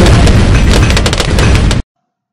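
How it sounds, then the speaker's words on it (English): A video game cannon fires with a heavy, booming blast that roars continuously with crackling bursts inside it, then cuts off abruptly into silence. "Now he's using the cannon."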